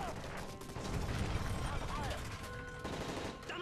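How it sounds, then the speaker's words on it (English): Bursts of rapid gunfire in Call of Duty: Modern Warfare 3 crackle against a dense mechanical din, with shouted voices mixed in. "That's gunfire!"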